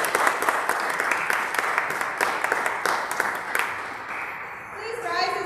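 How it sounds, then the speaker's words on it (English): A church congregation claps for a young girl, a steady patter of many hands for about four seconds, then thinning out as a few voices and soft tones come in at the end. "This is a applause for her."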